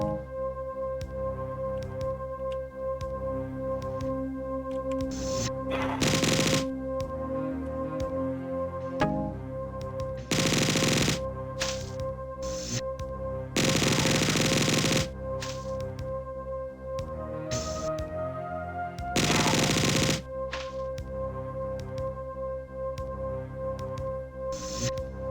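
Weapons fire in the 1994 video game Marathon comes in a handful of loud, blocky bursts, each lasting about a second, cutting through a steady droning synth music loop.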